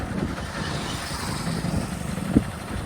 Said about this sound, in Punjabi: ਇੱਕ ਮੋਟਰਸਾਈਕਲ ਆ ਗਿਆ